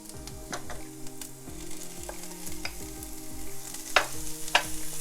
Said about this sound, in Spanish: Ahora vamos a añadir el calabacín.